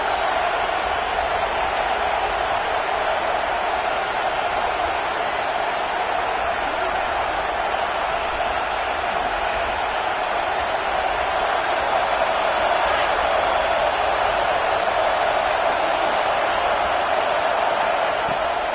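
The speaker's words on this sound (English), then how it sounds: "The Buckeye crowd alive on third down." An Ohio State Buckeyes college football stadium crowd roars on third down, a dense, loud, unbroken wall of cheering noise that holds steady throughout.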